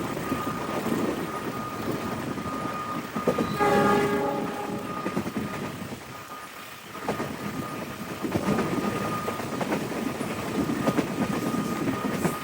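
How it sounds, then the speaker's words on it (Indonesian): A Pasundan economy passenger train with New Generation cars from the Bandung depot rumbles steadily past. Its horn gives a short tonal blast partway through, and the noise dips briefly before the train's roar returns. "Kereta Pasundan ya."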